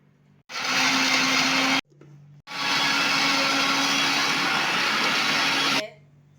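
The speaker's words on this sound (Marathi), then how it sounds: "आता हे सर्व आपण वाटून घेऊया मिक्सरमध्ये" Mixer grinder whirring loudly with roasted tomato, garlic, onion and coriander inside, running in two bursts: a short pulse of over a second, a brief pause, then a longer steady grind of about three seconds before cutting off.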